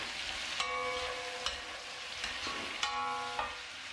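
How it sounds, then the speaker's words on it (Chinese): Chili peppers and pork slices stir-fried in a wok over high heat, a steady loud sizzle with repeated scraping of the spatula and clanking strokes across the pan, no voices. "开大火翻炒均匀"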